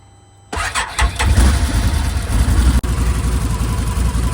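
A Can-Am Defender HD10 side-by-side with a newly replaced exhaust cranks and fires up, then settles into a steady, loud idle with a rapid low throb close by, broken only by one brief dip.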